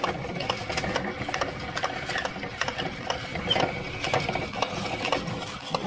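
A 3D printer filament counter runs as filament winds from one spool onto a new roll, producing rapid, uneven mechanical clicking and whirring like a ratchet or gears. The sound is fairly quiet and close.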